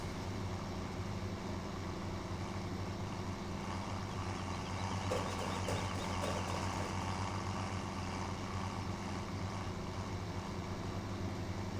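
A tractor engine in Farming Simulator 17 labors steadily under load while climbing a hill, a dense continuous droning rumble that holds level throughout without any talking.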